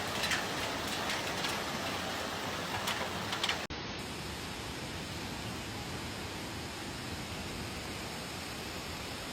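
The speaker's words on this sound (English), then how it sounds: "Heavy rain and hail hit Adana, Turkey on the evening of April 5th, turning streets into raging torrents." Heavy rain and hail pound the streets of Adana, Turkey during an evening storm, a dense, steady roar of wide hiss throughout, a little harsher and more textured at the start, with no voices.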